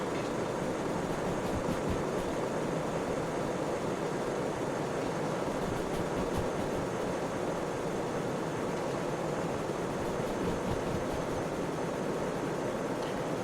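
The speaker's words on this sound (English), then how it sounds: "Some part of the train just hit a massive bit of a grade." Steady, constant rumble and wind-like roar of a moving train, heard from on board at an even level with no clear change in speed.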